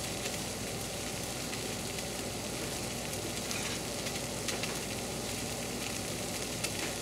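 Water with coconut cream for ginataang bilo-bilo bubbles and hisses steadily in a pot, a faint, continuous seething with no talk.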